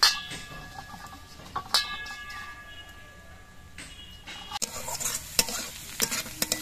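Onions frying in a wok (kadai) while preparing an egg curry, with steady sizzling and the scrape and clink of a spatula stirring, growing busier and louder in the last seconds; no talking.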